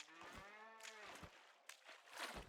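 A cow in the Scrap Mechanic video game moos twice in long, clear, drawn-out calls, the second one falling in pitch, followed by brief rustling and thumps.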